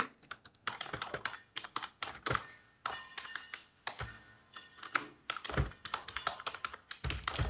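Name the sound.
computer keyboard typing an address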